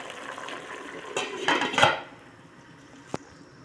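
A metal lid clatters back onto a cooking pot of chicken adobo with a few close clanks, followed by quiet simmering and one sharp tap.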